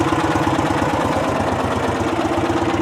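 A Briggs & Stratton engine on a John Deere riding mower runs steadily at idle with a fast, even chugging pulse. It is loud and close, with no voices.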